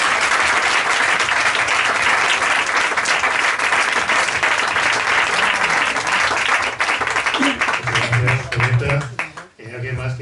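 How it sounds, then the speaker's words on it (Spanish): A book-launch audience breaks into loud, sustained applause, dense clapping that fills the room for about nine seconds before tapering off with a brief dip near the end. "pido que le demos un aplauso gigante"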